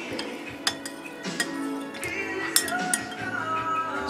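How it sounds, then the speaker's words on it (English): A spoon stirs a tomato and zucchini stuffing mixture in a bowl, with steady scraping and several sharp metallic clinks against the side, close and moderately loud. "Stir that up"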